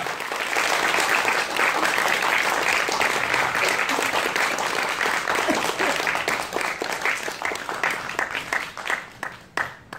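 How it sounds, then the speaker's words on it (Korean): A church congregation gives sustained applause to welcome a guest pastor at a winter revival service, a dense steady wash of clapping that thins and fades toward the end. "강사 목사님을 박수로 맞이하도록 하겠습니다"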